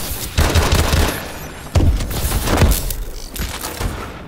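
Rapid gunfire from an automated sentry gun in Call of Duty: Advanced Warfare multiplayer on the Skyrise map, sharp repeated bursts with booming impacts, loud and close within dense game action.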